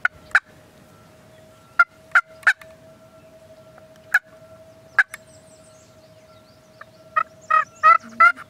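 Wild turkeys gobble in the open outdoors, sharp isolated calls scattered at a distance at first, then a louder cluster of rapid gobbles near the end over a steady faint background hum.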